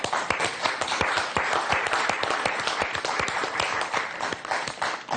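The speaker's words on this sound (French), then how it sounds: "là, vous pouviez applaudir" Studio audience applause on a French TV numbers-and-letters game show, a dense run of sharp hand claps that holds steady and fairly loud the whole time.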